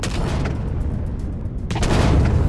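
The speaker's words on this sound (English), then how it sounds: "that's the pulse laser" Pulse laser weapon firing in the space survival game Empyrion Galactic Survival, a dense burst of rapid blasts that swells louder toward the end, with no talking.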